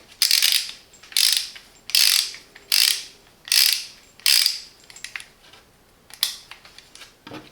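A Parkside torque wrench ratcheting close up: six evenly spaced bursts of rapid metallic clicking, then a pause and two quicker bursts, crisp and isolated.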